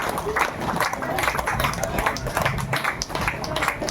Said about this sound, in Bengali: জোর হাততালি যাক